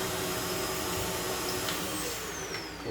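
A Shark Navigator Lift-Away Pro upright vacuum cleaner runs steadily and loudly at close range, a continuous motor whine and airflow roar with a high tonal hum that shifts slightly in pitch, with no talking.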